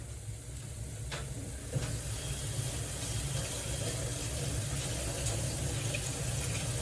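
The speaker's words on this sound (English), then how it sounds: "Now we're gonna add some water." Water pours steadily from a tap or jug into a roast pot being readied with potatoes and carrots, a continuous hissing splash holding at a constant, fairly loud level from start to finish.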